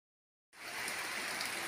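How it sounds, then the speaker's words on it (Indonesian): Heavy rain pours down in a village, starting abruptly after a moment of silence and then holding as a loud, steady, broadband wash of water with no talk over it. "Hujan begitu deras"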